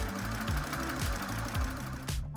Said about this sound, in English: And then bring it over to the sewing machine and finish the hem.